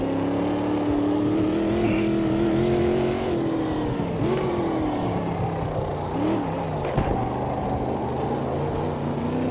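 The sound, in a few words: LMDH prototype race car passing by, from a sim racing video game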